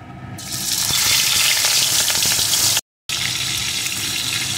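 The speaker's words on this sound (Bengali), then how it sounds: "তেলটা গরম হয়ে যাওয়ার পর আমি ম্যারিনেট করা মাছগুলোকে এর ভিতরে দিয়ে দেব।" Marinated pieces of katla fish hit hot oil and fry with a loud, steady, broad sizzle that swells in after a quiet start, cuts out briefly, then carries on just as strongly.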